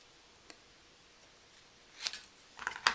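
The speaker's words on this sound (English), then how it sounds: "I'm going to cut this down just a bit." Scissors cut a paper holly-leaf piece for a handmade gift card holder, giving a few quick, close snips near the end of a quiet moment with no talking.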